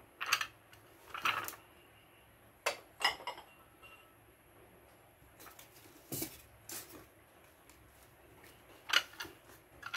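Plates and dishes being handled and stacked indoors, with sparse clinks and taps scattered across the stretch, fairly faint and close, in quiet pauses without talk.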